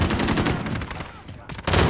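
Gunfire from a pistol in Call of Duty Modern Warfare, loud and close, with several sharp repeated shots packed into under two seconds and game speech layered among them.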